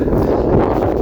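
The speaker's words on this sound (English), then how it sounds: "pardon the wind" Steady low rumbling buffet of wind hitting a microphone, broadband and continuous for the whole moment, with no other clear sounds.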